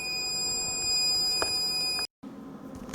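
A Dell PowerEdge 1800 server with its side panel removed gives a steady high electronic alarm tone with a brief chirp, then falls silent and only a low hum remains.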